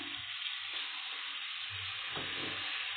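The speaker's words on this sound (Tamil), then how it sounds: "இந்த ஸ்டேஜில் வந்து நம்ம சிக்கன் ஆட் பண்ணிக்கலாம். நல்லா போட்டு இப்போ கிளறி விட்டுக்கிறோம்." Chicken being stirred into a sizzling Punjabi-style gravy in a pan, with a steady bright frying hiss throughout and a few scraping stirs of a spoon, close and alone without talk.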